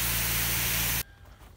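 Water sprays hard onto a dry dirt motocross track, a loud steady hissing rush that cuts off abruptly about a second in, leaving quiet outdoor ambience.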